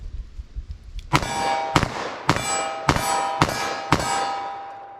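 A .357 Magnum revolver fires single action at a steel target 75 yards away, giving five loud sharp shots at a steady pace of roughly one every half second to second, each followed by a ringing metallic clang.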